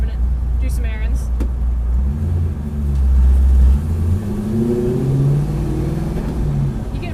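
A loud track car drives on public streets, its engine droning and rising in pitch as it accelerates, with a deep rumble throughout; someone talks over the engine noise.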